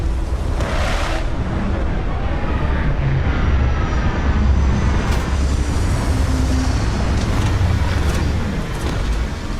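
A spaceship comes in to land in the game Starfield, with a loud, sustained engine roar and rushing thrust that swells and holds steady throughout.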